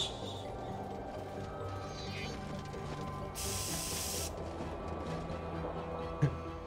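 A Shaker Spray ability effect in a video game lets out a sharp, sustained spray hiss lasting about a second, set over a low ambient hum and a brief metallic click near the end.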